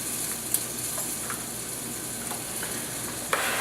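Borscht being stirred in a pot, a steady broad wash of simmering sizzle with a few faint scrapes and clinks of the spoon against the pot, no voices.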